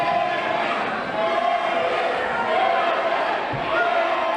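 A wrestling crowd at a Storm Grayson versus Jimmy Shane match roars continuously, a dense loud wash of cheering and shouting that swells slightly, with a commentator talking over it.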